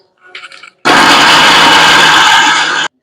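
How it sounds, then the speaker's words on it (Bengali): An electric blender whirs loudly and steadily for about two seconds, grinding green peas with a little water, after a brief faint rattle, then cuts off abruptly. "এখন এটা ব্লেন্ড করব সুন্দর করে"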